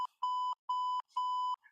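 Three evenly spaced, clean electronic beeps from a sound machine, steady mid-pitched tones with short silences between, ending in a faint brief chirp.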